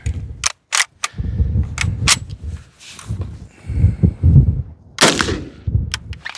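Several sharp, loud single shots from a C93 rifle with a loose magazine, spaced irregularly with short gaps, alongside handling noises and clatter.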